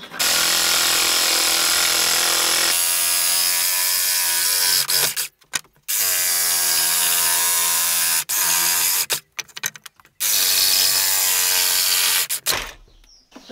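A power saw cuts a piece of timber for a DIY outdoor garden table, with loud sustained whining bursts of cutting, each lasting a few seconds, separated by brief pauses and clunks.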